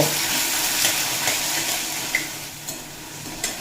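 Potatoes frying in a hot pan on a medium flame for a green papaya vegetarian dish, a steady broadband sizzle with a few soft clicks and stirring taps, close and without talk.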